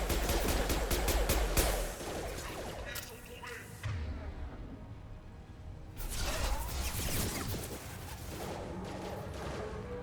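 Rapid bursts of gunfire from the Mass Effect 2 video game, dense volleys early and again later with a quieter gap between, plus a few heavy impacts and whooshes.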